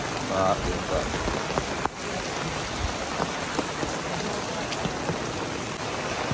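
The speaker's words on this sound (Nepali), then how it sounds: "यति ठुलो पानी परेछ साथीहरू।" Heavy rain pours steadily during the Bagmati river flood, a dense, continuous hiss of drops drumming on surfaces close by, with no clear talk.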